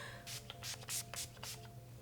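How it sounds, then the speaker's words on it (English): A makeup setting spray bottle lets out several quick, short hissing spritzes close to the microphone in an uneven rhythm over a quiet low hum. "So I just did a few sprays, and it stays all day."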